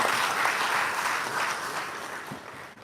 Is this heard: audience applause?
yes